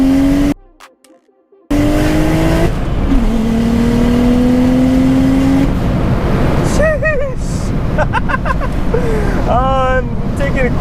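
A BMW 335i with an N54 single turbo kit roars loudly under heavy wind and road noise, engine pitch climbing through revs with a brief cutout, then whooshing flutter bursts from the open dump, heard from inside the car.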